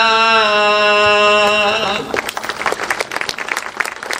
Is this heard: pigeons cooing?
no